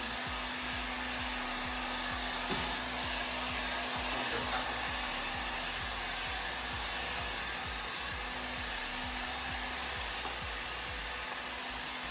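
A hair dryer blows warm air over freshly painted panels of a stage 2 cooler on an ST180, a steady, loud whooshing hum that runs the whole time with no one talking.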